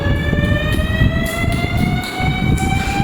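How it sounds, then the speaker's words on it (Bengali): An ambulance siren wails close by in a steady, repeating tone over rumbling street traffic, loud and sustained. "পুলিশের বাজনা বাজতেছে না, অ্যাম্বুলেন্স।"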